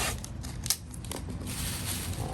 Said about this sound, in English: I'm wrapping the cord in a plastic bag just to keep overspray off of it.